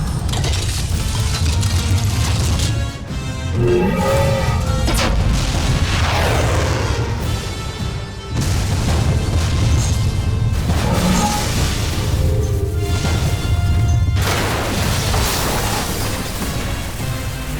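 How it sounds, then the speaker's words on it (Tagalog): Voltes V anime bazooka weapon firing: a loud sustained mechanical whirring and clanking with heavy booming blasts, building in waves over a dense low rumble, no voices. "Voltes Bazooka!"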